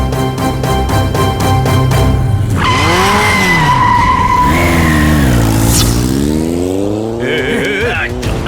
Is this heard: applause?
no